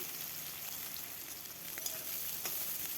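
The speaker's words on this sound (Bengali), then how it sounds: "মাছ ভাজার তেলেই দিয়ে দিচ্ছি পাঁচফোড়ন, কেটে রাখা পেঁয়াজ," Five-spice, chopped onions and green chillies sizzle steadily in oil left from frying chapila fish, a constant hissing crackle with a few sharper pops, heard alone without talk.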